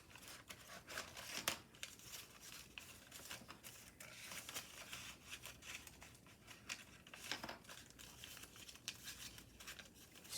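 Paper crinkles and rustles softly as it is squash folded into an origami aircraft carrier, a faint run of papery handling noises with a few sharper creases, no voices.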